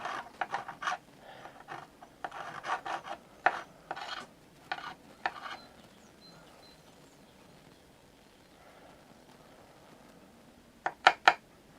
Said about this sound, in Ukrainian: ключиком на 19 подовжувачем пішли